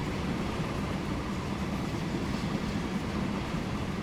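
A heavily loaded train in Transport Fever 2 slowly pulls away from a platform, giving a steady, dense rumble of rolling wheels and machinery at an even level throughout, with no voices.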